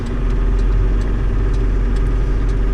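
A John Deere 8970 tractor engine idles loud and close, a steady low rumbling drone with faint ticking over the top and no talk.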